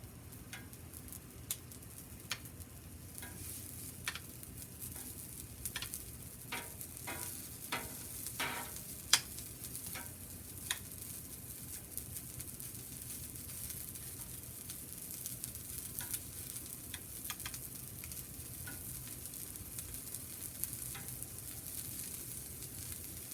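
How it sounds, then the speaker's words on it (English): Sausage cooking on a Blackstone griddle, a faint steady sizzle with scattered light taps and scrapes of a spatula, distant and quiet throughout with no voices. "I know that the sausage is going to take the longest, so I'm going to go ahead and get that on."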